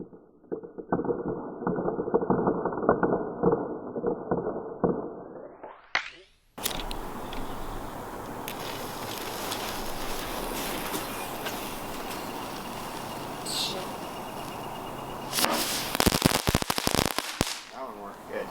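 Homemade fireworks going off outdoors: a hissing burn, then a sudden loud burst into prolonged crackling and sputtering, ending in a bright flurry of rapid pops.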